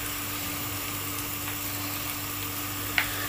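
Onion fries gently in a pan for Thai red chicken curry, giving a soft, steady sizzle with a faint hum and one brief clink near the end.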